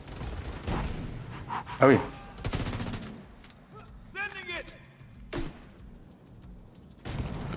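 Gunfire from The Division 2 end-game combat, aimed at an enemy's helmeted head: several sharp shot bursts and a short rattling volley spread over a few seconds, mixed with game effects, while players talk over it.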